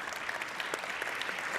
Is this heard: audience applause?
yes